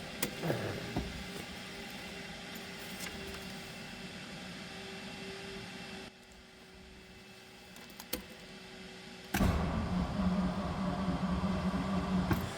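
A 1955 Ford Thunderbird convertible engine cranks and catches, then settles into a steady, moderately loud idle, with a brief quieter stretch midway before the engine sound rises again.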